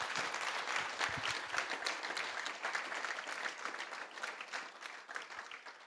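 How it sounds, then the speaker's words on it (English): An audience applauds the Premier at a function following a COVID-19 recovery plan keynote, giving a sustained wash of clapping that sounds moderately distant and eases off slightly toward the end, with no voices. "the Premier deserves a big round of applause for showing true leadership"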